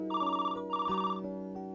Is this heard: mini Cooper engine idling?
no